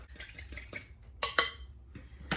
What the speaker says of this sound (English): I've got some crushed clove of garlic, a couple of tablespoons of fresh parsley there. Give that a little mix.